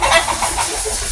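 Chickens cluck steadily and close by, a dense overlapping chatter of several birds that carries on without a break and with no voices.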